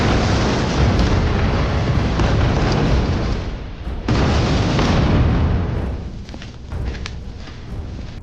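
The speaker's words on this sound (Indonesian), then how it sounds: "Bom gula putih itu pun meledak," A white sugar bomb detonates in an action film, a loud, sustained roaring blast with rumbling debris that fills several seconds before slowly tapering off.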